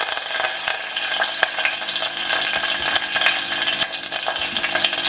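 Curry leaves and a slit green chilli crackle and sizzle in hot oil for a Kerala-style chicken curry, a steady bright hiss with small pops and a few stirring scrapes close by, no voices.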